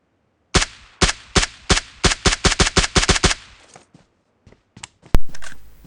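Gunfire in PUBG Mobile: a rapid burst of about fifteen loud, sharp shots in quick succession, then a few faint distant pops and one final loud blast, with no talking.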